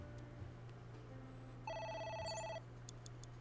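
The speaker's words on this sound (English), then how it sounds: "A phone. Should I pick it up?" A phone rings in the video game AI: The Somnium Files, a short electronic ringtone burst rising over a low, steady game ambience, with no one speaking.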